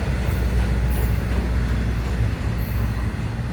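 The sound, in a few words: FEC Railway train picking up speed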